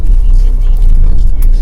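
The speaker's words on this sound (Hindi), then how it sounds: "सुबह का टाइम है, थोड़ा ट्रैफिक है" Morning road traffic outside a VFS visa office, a brief loud close rush of car engines passing under a voice.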